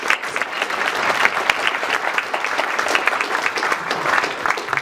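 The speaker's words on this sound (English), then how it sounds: "let's give them a round of applause" A crowd at a State of the City address claps for a group honored for a free Christmas service, a full, sustained round of applause with scattered sharper individual claps throughout.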